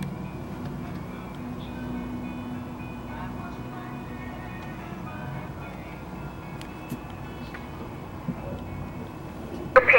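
Inside the Amtrak California Zephyr passenger train, a steady low rumble and rolling drone with faint high whines carries through a mountain tunnel. Someone speaks over it, and there are a few knocks near the end.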